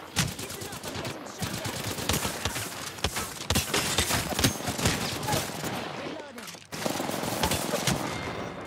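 The Mozambique shotgun in an Apex Legends-style shooter fires in fast repeated blasts, loud and close, over busy game noise, with a brief pause before the firing starts again.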